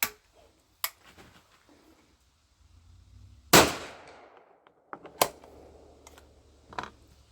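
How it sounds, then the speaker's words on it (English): Two loud blasts from a .410 shotgun firing roll-crimped test loads, spaced about two seconds apart. Each has a sharp crack and a short ringing tail, and quieter clicks and handling noises surround them. "I'm going to take 2 shots at my 25-yard target"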